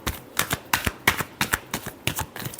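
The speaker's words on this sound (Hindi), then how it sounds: "last shuffle," Tarot cards being shuffled by hand, giving a steady, soft rhythmic flutter of riffles about three times a second, close and fairly quiet with no talk.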